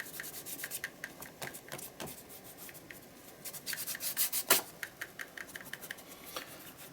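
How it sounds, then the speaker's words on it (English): Fingers spread and scrape paint across an art journal page, giving a soft, dry rubbing and scratching texture in uneven strokes. Several quick scrapes cluster together midway, close and fairly quiet, with no talking. "around the page just with fingers, and just basically spread it about, scrape it, get it all kind of uneven"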